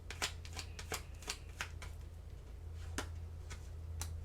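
Oracle cards shuffled by hand in a steady pattering riffle of quick close taps, with light sharper slaps at intervals over a low hum.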